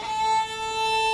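A single sustained violin bow stroke played with faster bow speed, one steady bright tone held alone for about a second.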